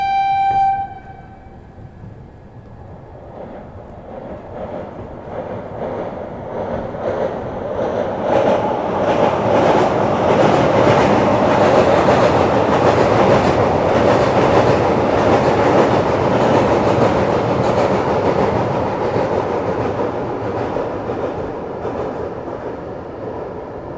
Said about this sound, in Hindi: सामने से आती हुई ब्रह्मपुर टाटा नगर वंदे भारत एक्सप्रेस।